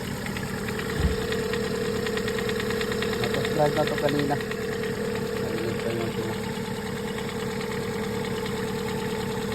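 A noisy engine idles with a persistent knocking rattle during a DIY repair, the steady mechanical clatter running throughout while someone talks over it.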